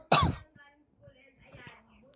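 A man with a cold gives one sharp, loud cough and throat clearing at the start, followed by quieter throaty rasps and faint breathy sounds.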